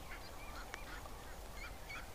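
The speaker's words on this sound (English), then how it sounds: "But the ducks are really loud." Several ducks in a backyard honk and quack in short, overlapping calls at a moderate distance, set against a steady hiss of falling rain.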